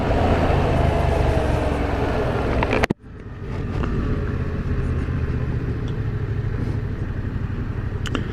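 Yamaha MT07 motorcycle on the move, a steady, close engine rumble blended with wind roar that briefly cuts out in a sharp thump before settling back into a continuous drone.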